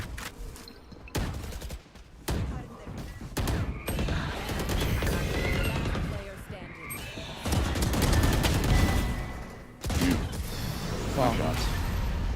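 Valorant gunshots crack out in repeated bursts and sharp single shots over busy game noise, mixed with a talking voice throughout.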